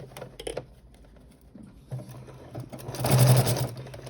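A sewing machine quickly running over an internal bag binding that was already stitched, giving short bursts of stitching and then a louder, faster run near the end.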